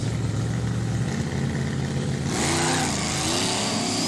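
Drag race launch at a no-prep quick street meet, a blown Datsun against a turbo LS car: steady loud engine roar that surges sharply into a harder, rising rev partway through, close and dominant with no talk.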